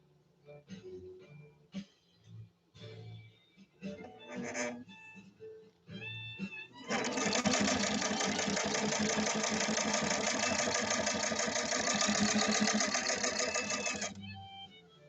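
A 1931 Singer 101-4 sewing machine stitching steadily for about seven seconds, a fast even mechanical whirr up close, after some clicks and handling noises and brief talk.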